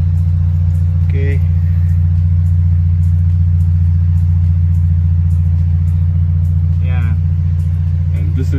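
A Toyota 86 GT engine and exhaust idle with a steady, deep low rumble throughout, heard close, while a few brief voice fragments come in over it.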